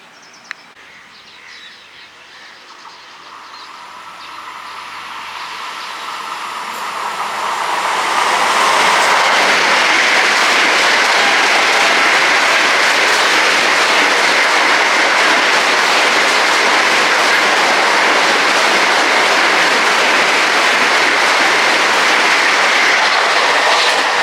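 The Agartala–Bengaluru Humsafar Express approaches from faint distance, then roars past loudly and steadily through Bhimadole station with rattling, clattering wheels, the noise sustained for a long stretch.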